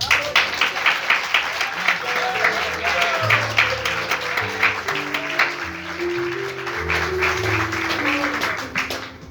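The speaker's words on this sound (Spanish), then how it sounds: "Dale un aplauso." A church congregation claps steadily and warmly, applause filling the room, with voices and low tones underneath throughout.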